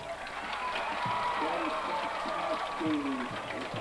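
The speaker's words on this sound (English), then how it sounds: "the noise from the crowd tells you there" Crowd noise rises at a 1995 high school football game between Bishop McDevitt and Harrisburg as a receiver crashes into the bench, a steady distant roar of cheering under a commentator's voice.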